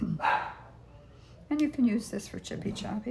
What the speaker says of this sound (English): Sorry if you hear my dogs barking.